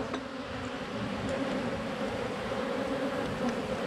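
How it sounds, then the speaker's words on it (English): Honeybees from a drone-laying colony swarming inside a beekeeper's veil during a hive inspection, a dense, steady, close buzzing drone that fills the whole stretch without pause or speech. "got a bunch of bees in the veil"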